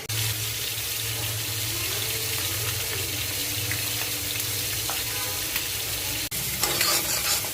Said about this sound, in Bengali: এদিকে আমি তরকারি কেটে ধুয়ে মাছ ভাজতে দিয়েছি।